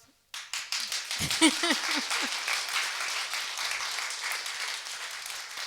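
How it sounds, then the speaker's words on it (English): Listeners at a spiritual talk burst into applause after a sudden start, with brisk, dense clapping that stays lively for about five seconds. Early on, a person's voice rises briefly over it. "I think we should applaud."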